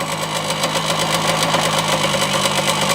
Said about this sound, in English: Alright, and then we'll start the bike up.